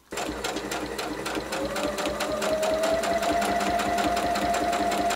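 A sewing machine stitches a lining seam in a steady, fast mechanical whirr with a rapid even needle clatter. It runs continuously for about five seconds at close range.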